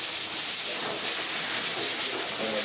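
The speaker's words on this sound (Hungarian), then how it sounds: "A vizsgafeladatnak megfelelően kittelnek, csiszolnak a diákok" Students sand body filler on the front of a car fender at a vocational exam, a steady, close, continuous abrasive rubbing and scraping with a gently pulsing rhythm and no talk.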